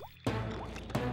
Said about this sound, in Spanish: El agua ya está goteando.